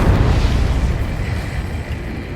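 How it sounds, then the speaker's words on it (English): An underwater explosion in the flight combat game Ace Combat 7, a loud, deep, sustained rumbling boom that rolls on steadily with no voices over it. "A huge explosion just went off underwater."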